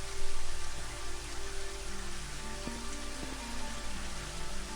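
Rain falls steadily in the video game Daggerfall Unity as a dense, even wash of hiss with soft low rumble and faint tonal game ambience beneath, no voices.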